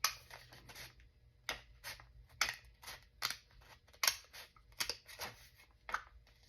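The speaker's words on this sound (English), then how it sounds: "And I'm just going to cut it." Scissors cut through junk mail envelope paper, a close series of crisp rhythmic snips and rustling slices, quiet and alone in a calm room.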